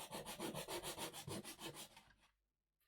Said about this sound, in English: put your sanding block on the table and then angle your plank around about 5 degrees, then put the chamfer on that way